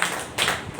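Audience applause for the poet Hari ji at a poetry recital, a brief burst of dense clapping from many hands, close and fairly loud.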